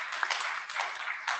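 Brief, soft applause rises from a conference session audience at the IETF 124 Crypto Forum, a muffled wash of many hands clapping at a distance for just over a second.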